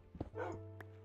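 A puppy in a video game gives a few short barks and yips up close, followed by a whimpering whine over a low steady hum, with sharp clicks near the end.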